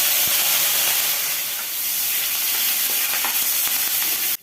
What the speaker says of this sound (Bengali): তেলে ফোড়ন দিচ্ছি একটা শুকনো লঙ্কা, 1 চিমটি জিরে, সামান্য একটু হিং আর কিছুটা কারি পাতা।